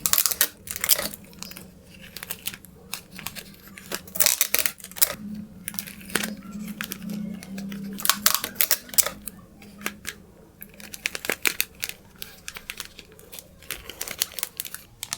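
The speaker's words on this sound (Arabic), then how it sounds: "هبدأ احط لزقة على كل الحرف ده علشان اضمن ان الغيرة مش هيخرج من الكيس" Clear transparent tape pulled and pressed along the edge of a plastic piping bag for glitter glue, giving repeated close, crisp tearing and crinkling bursts with light tapping in between and no talking.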